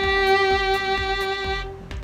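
A single long note on a string instrument, played with vibrato, rings clear and steady for nearly two seconds before dropping away, with faint soft taps underneath.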